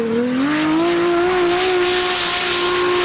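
A pro drift car in a D1NZ championship qualifying run at Manfeild slides at full lock, its engine holding a loud, steady high-revving wail over continuous tire squeal and hiss, close and unbroken.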